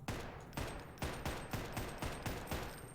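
Rapid gunfire from carbines in the video game Farworld Pioneers, a close, loud burst of about seven evenly spaced shots over a few seconds with no talk.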